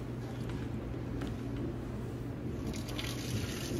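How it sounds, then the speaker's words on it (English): Water pours steadily from a pot of cooked spaghetti noodles into a colander or sink, a continuous splashing rush with a brighter spatter toward the end. "this is me draining the noodles"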